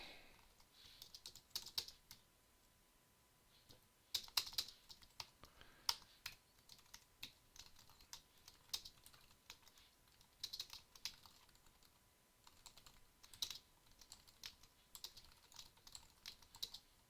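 Computer keyboard typing while programming, quiet irregular clicks in scattered bursts with short pauses, close and soft, no voices.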